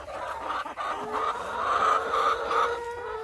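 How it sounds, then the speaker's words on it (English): A rooster crows inside a chicken coop among other hens, a loud, drawn-out call near at hand with some clucking and background noise around it. "That's our rooster."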